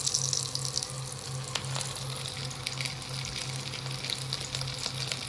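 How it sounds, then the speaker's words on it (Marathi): Semolina-coated, spice-rubbed fish fries in hot oil, giving a steady, dense, close sizzle that holds continuously throughout with a faint low hum underneath. "तेलामध्ये आपण मासे सोडून घेतलेले, तर त्याला तळून देऊया एका साईडने"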